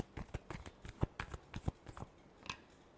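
Tarot cards being shuffled in a quiet room, a run of soft crisp riffling snaps and slaps that come in uneven bursts, fairly close and alone with no talking.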